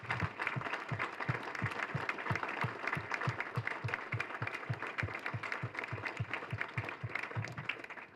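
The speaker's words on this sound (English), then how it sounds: "let's give them another great round of applause for our future" An audience at a farmers breakfast gives a round of applause, a steady wash of many hands clapping that carries on evenly throughout, fairly distant and moderately quiet.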